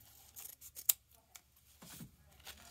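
Scissors snip through ribbon tails while a cedar wreath decorated with candy canes is trimmed, giving a few quiet, close snips and rustles of ribbon at an uneven pace, with no talking.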